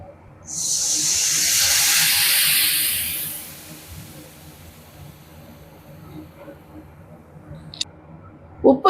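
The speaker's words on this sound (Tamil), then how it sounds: "இப்போ புளி தண்ணியை ஊற்றிக்கலாம்." Tamarind water poured into a hot pan while cooking a spicy thokku with turmeric and chili powder, bursting into a loud, steady sizzling hiss that fades over a few seconds, leaving a low bubbling simmer and a few faint clicks.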